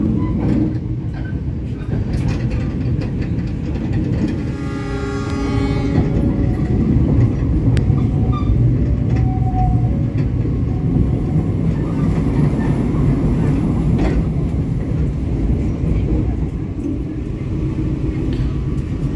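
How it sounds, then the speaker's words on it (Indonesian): The Cikuray passenger train rolls along the rails at about 59 km/h, heard as a steady, loud, rumbling drone with faint clatter throughout. "Kecepatan kereta api Cikuray sekitar 59, pokoknya tidak lebih dari 60 kawan."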